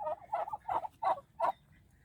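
A hen turkey calls loudly in a series of five sharp, rhythmic yelps, close to the listener.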